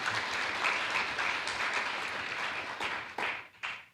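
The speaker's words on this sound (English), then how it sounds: "We can clap too." Audience at a programming languages conference business meeting applauding an award announcement, a dense burst of clapping from many hands that tapers off in a few final claps.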